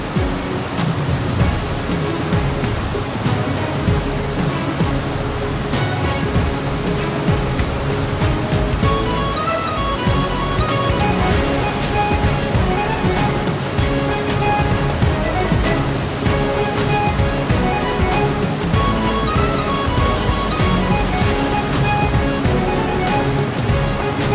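Duduma waterfall roars in a loud, steady, continuous rush of falling water that fills the whole scene, dense and unbroken without any pauses.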